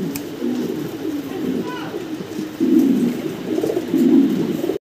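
Black Mundian fancy pigeons coo in low, throaty rolling calls, close and repeated in swelling bursts. Someone talks over them.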